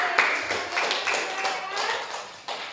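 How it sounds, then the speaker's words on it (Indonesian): Classroom group applause for group C, a steady patter of many hands clapping together at close range and moderate loudness, continuing for a few seconds with a few sharper claps standing out. "Berikan aplaus untuk kelompok C"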